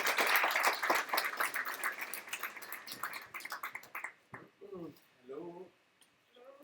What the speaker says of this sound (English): let's give a warm round of applause to Marco Colombo.